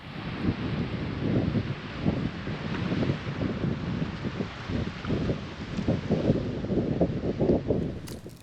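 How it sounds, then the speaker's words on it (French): Steady wind buffets the microphone by the sea, a constant rushing roar with gusty low rumbles throughout, no voices. "On s'est mis par là pour s'abriter du vent qui vient de l'autre côté."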